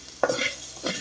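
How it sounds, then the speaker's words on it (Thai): Crickets being dry-roasted in a pan with a little oil, a brief stirring scrape against the pan with faint sizzling, heard close and alone. "ฉันคั่วแมงจิ้งโกงหรือจิป่มนะจ๊ะ"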